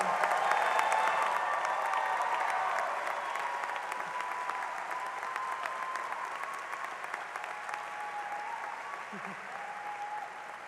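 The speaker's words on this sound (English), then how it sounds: "take a moment to just let us applaud you and celebrate the work it took to bring you here today" Sustained applause from a large audience at a 2024 university communication graduation ceremony, steady and dense throughout, slowly tapering, with faint crowd murmur mixed in.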